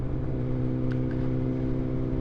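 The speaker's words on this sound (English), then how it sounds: "trying to get a feel for the exhaust sound and the bike's performance" A BMW S1000XR motorcycle fitted with a Black Widow decat exhaust drones steadily while being ridden, a close, continuous, rich engine tone holding at a constant pitch with no talk.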